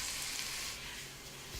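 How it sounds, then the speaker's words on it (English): Beef chunks brown in a hot pot for beef bourguignon with a steady, dense sizzle and crackle throughout, fairly close and even, with no talk over it. "The meat immediately starts to brown."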